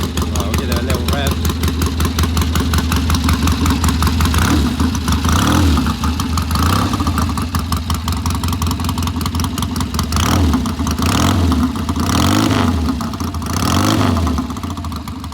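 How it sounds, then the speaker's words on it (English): A 1964 Triumph T120C Bonneville 650cc motorcycle engine idles steadily and close by, with a few short revs that rise and fall over the even throb. "I'll give it a little rev."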